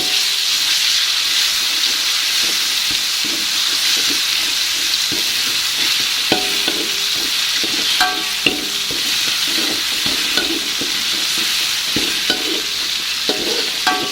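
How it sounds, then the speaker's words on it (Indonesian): Spice paste sautéed in oil left over from frying tempeh, a loud continuous sizzle and hiss close up, with scattered scrapes and clinks of a spatula stirring the pan. "di sini saya mau tumis bumbunya pakai minyak yang bekas goreng tempe tadi ya teman-teman"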